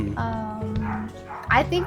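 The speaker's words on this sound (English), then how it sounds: "Also, sorry for my dog." A pet dog yips and barks a few times close by in a room, overlapping a person's ongoing speech.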